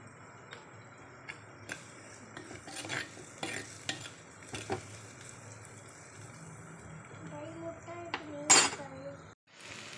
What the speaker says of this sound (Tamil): நல்லா வணங்கட்டும் பூண்டு போட்டுடலாம்